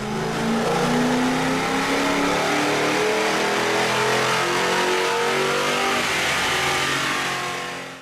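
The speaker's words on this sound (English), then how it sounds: "Now let's see what these BBK headers do on the dyno." A 2005-2010 Ford Mustang 4.6L 3V V8 fitted with BBK shorty headers revs on a dyno, its loud, steady engine note rising in pitch through a long sustained pull before easing off at the end.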